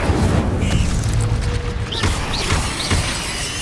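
Incendio fire spell in Hogwarts Legacy on PS5, a loud roaring blast that fills the scene with rumbling whoosh, a few rising magical swishes layered over the continuous fiery noise.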